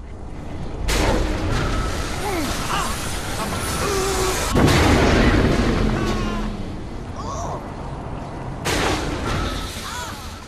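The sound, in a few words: Black Hole Launcher weapon firing in Saints Row 4 video game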